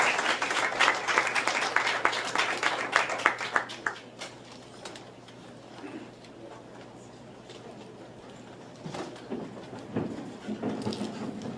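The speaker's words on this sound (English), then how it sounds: "let's give him a round of applause" Applause from a conference audience at the opening ceremony of an annual China influence network gathering, strong at first and then fading after about four seconds into quieter room noise with scattered claps and movement.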